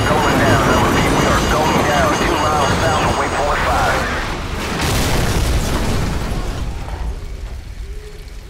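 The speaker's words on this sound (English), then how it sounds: "Incoming missile!" An incoming missile explodes in the Call of Duty 4 game, a heavy, loud rumbling blast that swells and then fades, with shouted voices and combat noise mixed in.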